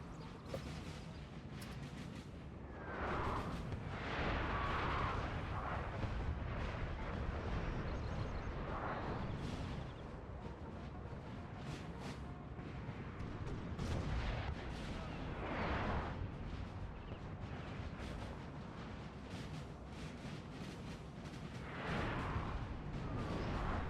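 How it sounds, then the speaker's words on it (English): Artillery fire in a Napoleon Total War Peninsular battle, booming cannon shots and bursts recurring through a dense, continuous wash of battle noise, steady and loud throughout. "Artillery is going to start playing hell on this Spanish line once they get in range."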